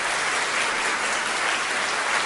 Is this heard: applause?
yes